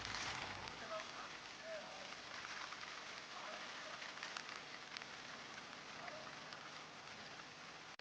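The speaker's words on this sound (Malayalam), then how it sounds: "നല്ല മഴയും പെയ്യുന്നുണ്ട്." Faint, steady rain falls on a misty hilltop at Kurishumala in Kozhikode, a soft continuous patter and hiss with no clear voices.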